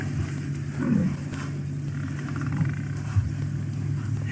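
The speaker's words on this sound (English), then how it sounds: "Listen to them snorting as well." A herd of buffalo bunched together on a sunrise safari while lions are nearby, heard as low, close snorts and breathy sniffs over a steady rumbling background, with no talk.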